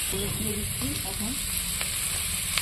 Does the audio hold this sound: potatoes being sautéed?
yes